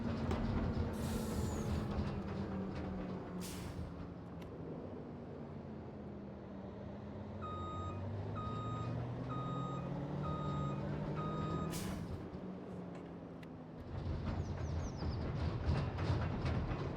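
Reversing beeps from a truck in Farming Simulator 25, a steady series of evenly spaced electronic beeps over a droning engine, fairly quiet, with heavier engine rumble and air-brake hiss around it.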